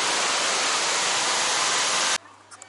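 Rushing roar of Kuang Si waterfall near Luang Prabang, Laos: a loud, steady wash of falling water that cuts off abruptly, leaving quiet background.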